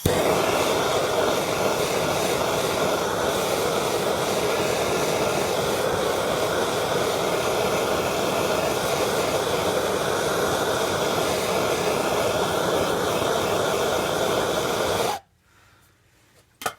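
Steady, loud roaring rush of a torch or heat gun warming the stuck transfer case casing of a 1996 Jeep Cherokee, running unbroken for about fifteen seconds before cutting off abruptly.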